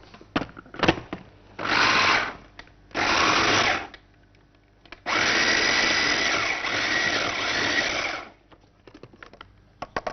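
An electric mixer whirs loudly as it mixes an ingredient with milk. Three separate bursts of motor noise, the last one longest, are divided by short quiet gaps with light clatter.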